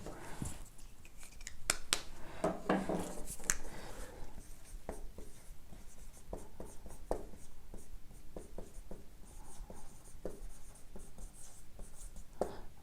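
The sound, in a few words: writing trigonometry formulas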